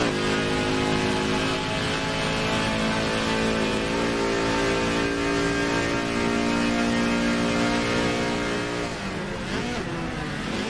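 Race cars roar steadily in a Forza racing game, engines droning and revving at high pitch as they run together in a continuous, loud stream with no break.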